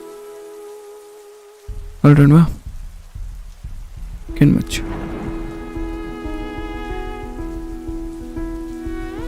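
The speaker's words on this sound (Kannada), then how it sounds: "ಮಳೆರಾಯ, ಜೋರಾಗಿ ಸುರಿಬೇಡ, ನಿಧಾನಕ್ಕೆ ಶುರು ಮಾಡು. ಮಧ್ಯ ಮಧ್ಯ ಜೋರಾಗಪ್ಪ. ಗುಡುಗು ಇರಲಿ" Rain pouring steadily with a low rumble of distant thunder, the downpour filling the background while a person speaks briefly over it near the start.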